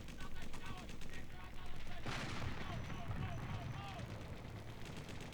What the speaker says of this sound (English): this is the one with the war gunshots and war sound effects and stuff